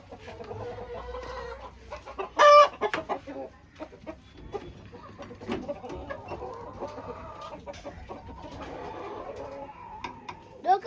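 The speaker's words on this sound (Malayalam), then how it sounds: "ഇത് രണ്ടു കോഴിയാണെന്നുള്ളൂ" Two village chickens cluck close by in a hometown yard, with one loud burst of squawking early and steady low clucks continuing under faint background noise.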